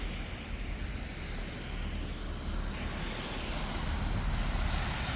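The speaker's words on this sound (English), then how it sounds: "the pressure of the water has blowed out the sewer line and it's blowing up through the road" Water gushes up through a road from a blown-out sewer line caused by a clogged stormwater drainage line, producing a continuous loud roaring rush that builds slightly toward the end, with no talk.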